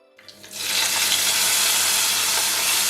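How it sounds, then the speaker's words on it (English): Tarka of spices with asafoetida hits a hot pan, building from a few faint crackles into a loud, steady, close sizzle that hisses on without a break. "Glad I had that original sound actually from when I was actually cooking this tarka"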